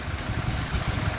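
Honda HR-V car engine idling in the engine bay, a smooth steady low hum with a faint rhythmic knock, close and constant with no talk over it.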